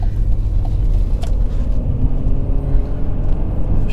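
A car won at a salvage auction being driven, its engine giving a steady, close low rumble with a continuous hum from inside the cabin, no voices over it.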